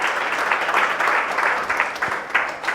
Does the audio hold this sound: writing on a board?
no